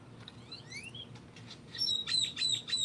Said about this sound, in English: Yes, it's birds chirping behind me.